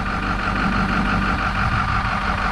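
A 2007 Ford 6.0 diesel truck engine idles steadily, a continuous low rumble with an even mid-range drone holding a constant level from start to finish.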